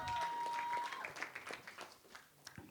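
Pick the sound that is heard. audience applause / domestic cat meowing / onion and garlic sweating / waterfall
audience applause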